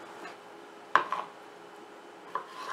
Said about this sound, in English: I started dicing up my plum tomatoes, and I just want it to be nice bite-sized pieces